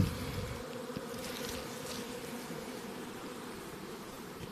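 A honey bee swarm buzzes steadily as it flies into a hive at a migratory apiary, a dense continuous droning hum close by with no talk.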